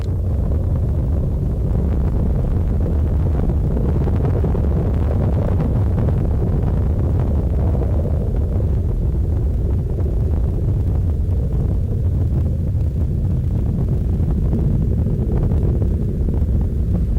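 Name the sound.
Space Shuttle Discovery engines roaring during launch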